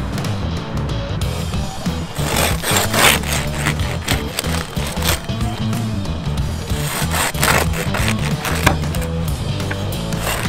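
A knife saws through a crusty truffle pizza roll, giving a continuous rough scraping crackle of the crust for about ten seconds, close up with no talking.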